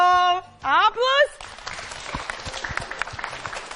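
A school audience breaks into brisk, steady clapping after a correct quiz answer, following an electronic chime-like jingle, fairly loud and close with scattered claps.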